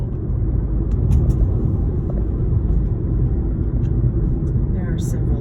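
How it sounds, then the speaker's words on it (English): Morning traffic streams past near Nevada Union High School in Grass Valley, a steady low rumble of passing cars and buses heard from inside a moving vehicle, with faint higher clicks over the drone. "there is traffic right now, because it's 8 in the morning and kids are just headed to school"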